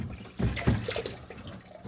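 Cold tap water from a sink is poured into the tank of a Paris Rhône portable evaporative air cooler, giving a short close splash with two heavier gushes followed by lighter trickling.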